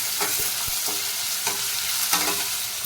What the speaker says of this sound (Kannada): ಸಣ್ಣಕ್ಕೆ ಹೆಚ್ಚಿರೋ ಅಂತ ಈರುಳ್ಳಿ ಹಾಕ್ಕೊಳ್ಳಿ. ಸ್ವಲ್ಪ ಲೈಟ್ ಬ್ರೌನ್ ಆಗಬೇಕು, ಅಲ್ಲಿವರೆಗೂ ಹುರ್ಕೊಳ್ಳಿ.